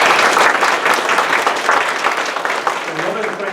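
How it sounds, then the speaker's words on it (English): An audience at a business meeting applauds, a dense wash of many hands clapping together, loud and sustained before slowly thinning toward the end. "give them a round of applause."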